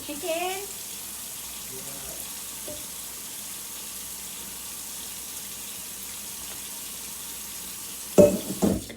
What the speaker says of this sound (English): I just add a little bit more water,